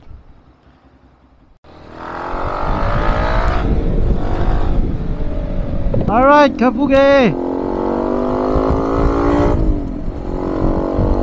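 A Triumph Speed 400 (GRX 250) motorcycle engine running steadily while riding, a loud continuous drone with a brief rising rev in the middle and a voice over it.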